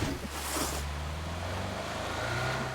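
A low engine drone with a rising whine, like a car coming up from behind in a video game, steady and fairly loud through the whole stretch.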